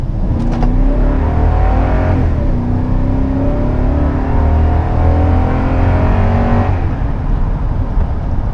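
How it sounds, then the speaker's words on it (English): A 2014 Toyota Tundra Limited pickup truck accelerating hard uphill from about 15 to 60 mph, its engine note climbing loudly and steadily through several gear shifts, heard from inside the cab. "That was a run from about 15 to 60 going up a hill, so it moves fast"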